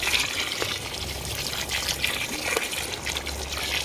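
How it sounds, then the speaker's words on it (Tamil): Water poured into a large pot of Muslim-style village chicken gravy masala with chilli and coriander powder, a steady gushing pour running through the whole stretch over low background rumble, no talk. "தேவையான அளவுக்கு தண்ணி சேர்த்துக்கலாம்."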